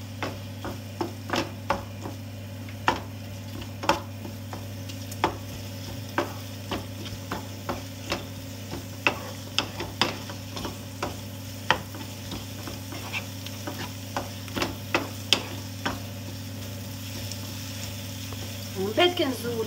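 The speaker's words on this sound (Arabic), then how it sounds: "كنخلط الكل حتى كينسجم مع بعضو وكيتقلى شوي" A mixture with salt and oil is stirred and fried in a pot, the spoon scraping in regular clicks and taps over a low steady sizzle and hum.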